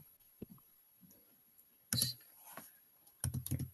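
A computer keyboard is typed on in scattered bursts of quick, close clicks, with pauses between groups of keystrokes and no talk.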